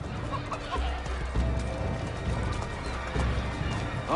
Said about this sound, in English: Chickens, animals as part of the crowd in the city is also a new feature.